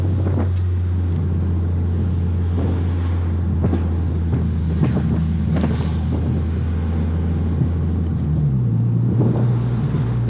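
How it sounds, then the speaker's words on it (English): Toyota Corolla Hatchback fitted with a 2J Racing quad-exit catback exhaust and OEM headers, cruising through a neighborhood: a steady low exhaust drone with a pitch shift near the end, wind rush over it, no talking. "this is the 2J Racing Quad Exit Catback"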